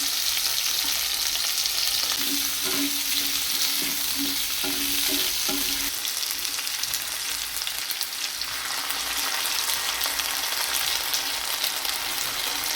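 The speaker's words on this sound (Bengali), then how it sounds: "আলুটা এখন ভাজবো। আর ফোড়নে দিয়েছি জিরে, গোটা জিরে আর তেজপাতা।" Potatoes fry in hot oil tempered with whole cumin and bay leaves, giving a steady close sizzle with a few scraping stirs partway through and no voices.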